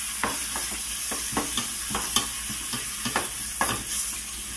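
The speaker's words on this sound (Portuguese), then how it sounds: "2 colheres bem cheias de extrato de tomate. Vai dar aquela mexida aqui" A spoon stirs tomato paste into meat in a pot, giving a steady series of scraping, sloshing strokes roughly every half second over a soft sizzle of cooking, close and fairly loud with no talk.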